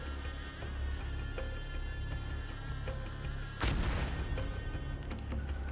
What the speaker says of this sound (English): Just heard some long-range AT come in